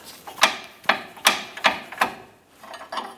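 A hammer drives a pickle fork to work a ball joint loose on a 2008-2013 Nissan Rogue's front lower control arm: seven sharp metallic strikes in a steady rhythm, close and loud, with a short pause before the last two.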